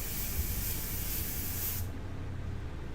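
An airbrush sprays pigment paint with a close, steady hiss that cuts off sharply near the end, leaving a faint background hum, with no one talking.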